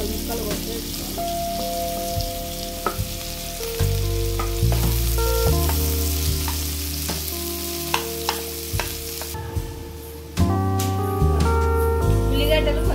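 Green chillies and thinly sliced onions fry in hot oil, a steady sizzle with stirring clatter and utensil taps, while background music plays along.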